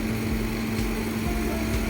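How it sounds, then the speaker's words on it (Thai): Drilling while fitting a Buddha amulet into a frame with side edging, a steady motorized whine with a constant tone, running continuously at close range with no talk. "อันนี้เราก็จะเป็นการเจาะ"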